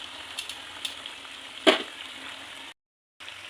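Bakwan vegetable fritters frying in hot oil at home give a faint, steady sizzle with a brief louder crackle midway, then a short silent gap before the sizzle resumes.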